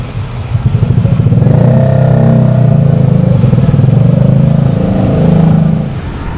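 A 2017 Yamaha NMAX scooter rides through early-morning traffic, its loud engine droning steadily close up with rising and falling revs and some rattle, and no talking.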